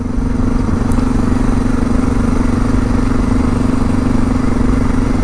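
Suzuki DR650 motorcycle engine running steadily with hesitation and surging, a loud, close, continuous low drone with a clattering edge and no clear revving peaks.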